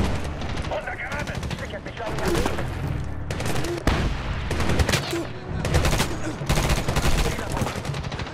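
Rapid gunfire bursts and booms from the Medal of Honor video game, dense and loud across the whole stretch, with a voice speaking over the shooting.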